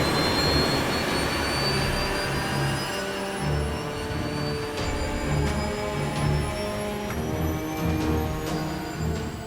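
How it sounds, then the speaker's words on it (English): Boeing 737 jet engines roar during a go-around, a loud, continuous whine and rumble with rising tonal pitch sweeps, sustained and close, with no voices over it. "The pilots execute another go-around."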